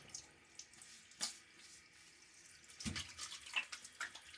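Water trickles and splashes briefly from a tap during a wet shave rinse, faint and intermittent, with a few soft drips and bursts of running water.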